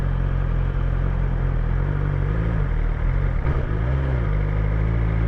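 A BMW S1000XR motorcycle filters slowly through traffic at low speed, its engine a steady close rumble with small shifts in note as the throttle varies, and no talk over it.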